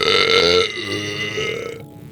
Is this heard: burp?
yes